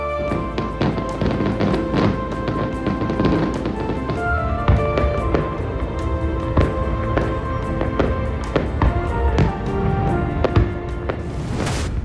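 Dense crackling bursts and thumps of fireworks popping continuously during a national celebration in Kusadasi, Turkey, with a busy, festive background of music and crowd noise.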